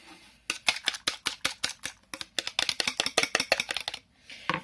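A fork or whisk beats egg, milk and butter together in a mug for a mug cake, tapping rapidly and rhythmically against the sides in a close, quick run of clicks with a short pause near the end.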